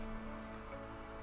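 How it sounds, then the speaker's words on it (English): Steady rain in the farming game Harvest Moon Animal Parade, an even hiss of falling drops layered with a soft background game tone. "I think I hear the rain"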